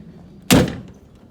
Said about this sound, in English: This one opens up pretty nice and shuts.